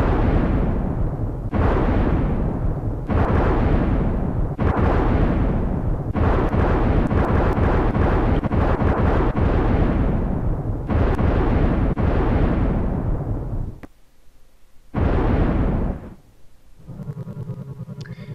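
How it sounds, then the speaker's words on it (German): A volcano explodes in the Secret of Evermore video game, a string of loud, booming bursts with rumbling tails that cut in and out, then drop to a quieter crackling rumble. "Ja, die Explosion, die schleudert uns quasi aus dem Vulkan."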